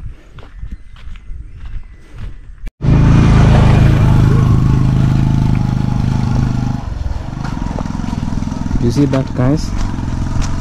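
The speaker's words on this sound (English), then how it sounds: "That's a motorcycle." After brief talking, a motorcycle engine suddenly roars in very close by on a rural road in Kenya and stays loud and steady, with rain-like noise in the background.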